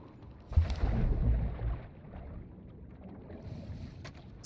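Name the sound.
patrol boat engine in video game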